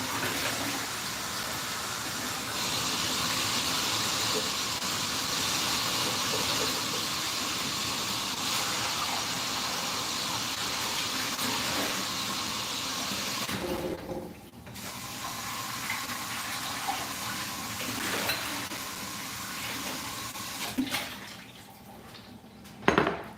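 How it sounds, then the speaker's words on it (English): Running water splashes steadily over cake decorating utensils for a quick wash, a continuous hissing tap flow for most of the stretch with brief pauses, small clinks and a louder knock near the end. "I can do a quick wash around here"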